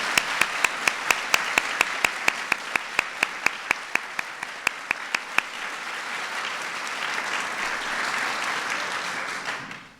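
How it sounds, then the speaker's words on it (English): An audience at a national museum and library service medal ceremony claps steadily for honorees, a dense wash of applause with several sharp individual claps close by, fading out near the end. "let's give one more round of applause to today's honorees."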